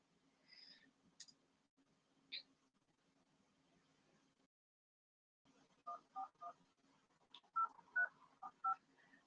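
Telephone keypad dialing tones on a call to a UK water company: a few separate beeps, a pause, then a quick run of several tones, all faint and clean over low line hum.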